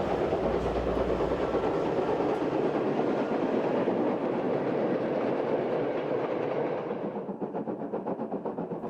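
A regional train linking West Berlin with West German cities runs steadily on its rails, a loud, close, continuous rumble with rhythmic clatter that dulls and softens slightly toward the end, with no voices.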